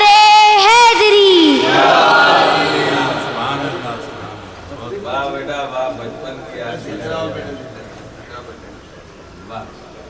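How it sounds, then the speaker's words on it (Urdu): Crowd at a majlis gathering in Pune loudly shouting the Nara-e-Haidari slogan, a strong burst of massed voices at the start that fades into a murmuring, echoing hall of people. "نعرے حیدری۔"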